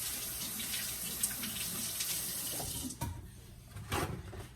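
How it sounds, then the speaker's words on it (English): Fingers are rinsed under a running kitchen tap, with a steady hiss of water splashing into the sink that cuts off partway, followed by a few faint splashes and drips. "Actually, I'm gonna wash my fingers off first."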